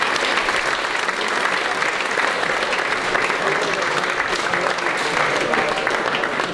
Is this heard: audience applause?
yes